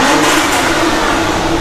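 A car engine revving hard and loud throughout, a steady dense roar with no talk over it, from a classic car whose odometer shows only 792 km.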